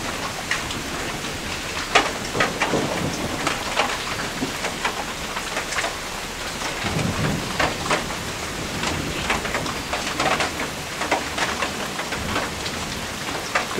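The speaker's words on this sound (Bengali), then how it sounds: "বৃষ্টি হচ্ছে তো।" Rain falling steadily on surfaces nearby, a dense continuous patter with scattered louder drops and no talking.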